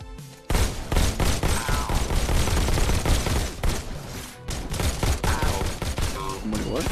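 Rapid volleys of gunfire in the VR shooter Robo Recall, near and loud, firing almost continuously after a short quiet start with a brief pause midway, faint game chatter underneath.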